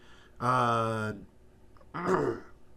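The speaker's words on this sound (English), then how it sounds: "Just trying to clear my throat here." Someone clears their throat twice, a long voiced rasp followed by a shorter one after a brief pause.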